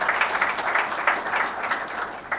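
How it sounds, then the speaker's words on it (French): A crowd at an award ceremony claps in a brief, steady round of applause, with dense overlapping hand claps sounding alone, without talk. "Je pense qu'il mérite également des applaudissements"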